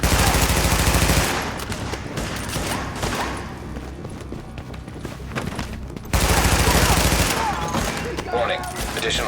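Rapid automatic gunfire and explosive bursts in the video game Tom Clancy's The Division, loud and dense at the start, thinning to scattered shots, then surging again into heavy sustained fire.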